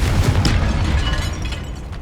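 Confringo spell blasting in the Hogwarts Legacy video game, a loud booming explosion with a rumbling low-end tail that fades gradually over two seconds.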